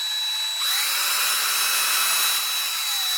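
A power drill spins a propeller driven through a chain of Lego gears, a steady loud high-pitched whir that ramps up in speed and holds a continuous buzzing tone.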